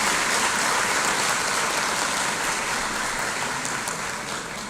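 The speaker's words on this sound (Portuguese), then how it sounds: "para quem eu peço uma salva de palmas" A hall full of lawyers at the Angolan Bar Association's swearing-in ceremony in Luanda gives sustained, dense applause that fades slightly toward the end.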